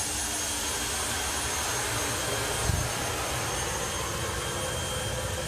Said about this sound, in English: he increases the RPM of the jet, winds it up to give it more thrust